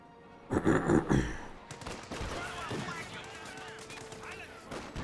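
Bursts of gunfire from the World War II strategy game Company of Heroes 2: a loud, rapid volley early on, then a steady crackle of shots and battle noise, with voices calling out over the fighting.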